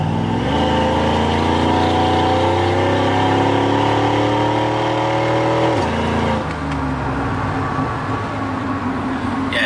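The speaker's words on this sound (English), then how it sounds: "we'll make a nice little hit, see what it takes to actually move this truck." Supercharged, nitrous-fed 1995 Ford Lightning pickup truck accelerating hard on the street: a loud, close engine whose pitch climbs steadily for several seconds, then drops sharply before settling into a rougher roar.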